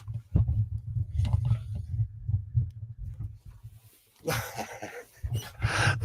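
A dog indoors during a sewing session makes a run of low, soft huffing woofs close by, rhythmic and uneven, followed by a brief pause and a burst of broader rustling noise.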